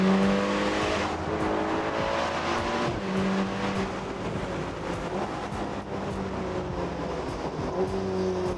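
Ferrari Portofino open-top convertible, about 600 hp, heard from on board as the engine note drops on a downshift and then rises under steady acceleration, with loud continuous engine drone and some road and wind noise, no talk.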